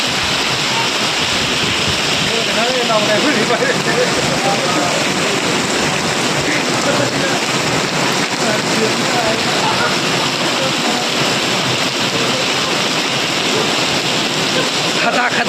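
Heavy monsoon rain pours down in Sangamner, a steady, dense wash of rainfall and running water that stays loud and unbroken from start to finish.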